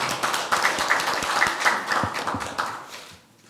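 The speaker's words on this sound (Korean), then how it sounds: "자, 큰 박수 부탁드립니다." Audience at a political party debate forum applauding to welcome a guest speaker, a lively burst of close clapping that thins out and fades to quiet at the end.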